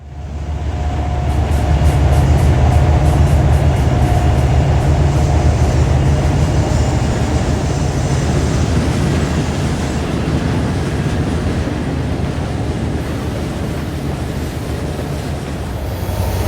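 An intermodal freight train rolls past in a loud, steady rumble with a faint rhythmic clatter of wheels, holding at full volume throughout and easing only slightly toward the end, with no voices.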